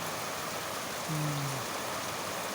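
Rain falling in a steady, even wash of noise, with a brief low tonal hum passing partway through and no speech.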